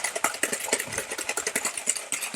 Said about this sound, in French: Voilà, on fouette bien tout ça.